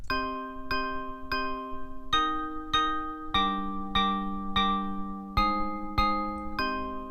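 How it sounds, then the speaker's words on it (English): A bright, bell-like synth in FL Studio plays a steady melody of evenly spaced plucked notes, the middle notes raised an octave higher in pitch before the line drops back. "I changed the octave of the middle note, so now it sounds like this"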